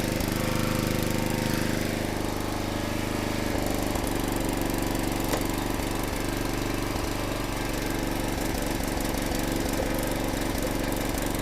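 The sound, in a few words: sputtering motor of a log splitter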